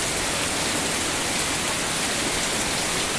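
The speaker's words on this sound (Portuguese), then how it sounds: "chuva veio de novo, olha só." Steady, dense rain pours down outdoors, a continuous broadband hiss with close patter of drops on surfaces and no voices, loud and unbroken throughout.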